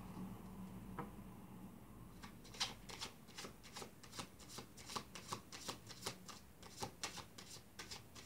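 An oracle card deck being shuffled by hand, a faint rustle at first, then a steady run of quick, close riffling flicks repeating in an even rhythm without any voices.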